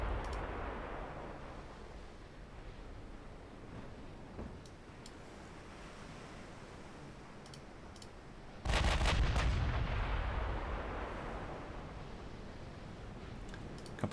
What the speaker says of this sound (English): Firing at nearly 20 kilometers out.